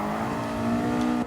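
Race car engine in Gran Turismo 7 on a time trial at Eiger Nordwand, held at high revs in second gear with a steady buzzing drone that cuts off abruptly.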